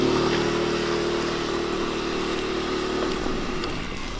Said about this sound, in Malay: Bawa motor dulu.